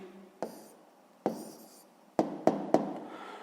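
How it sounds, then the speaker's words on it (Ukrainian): A pen writes out a maths answer on paper, heard as several sharp taps and short scratching strokes at close range, with no talk over them. "Ну, давайте я тут запишу."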